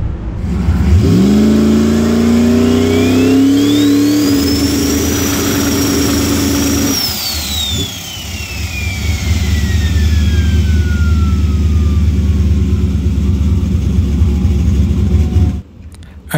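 A drag-style race car engine revs hard during a spool test, rising to a loud sustained whine with a turbo-like sweep, then dropping back to a deep idle rumble near the microphone, with no talking.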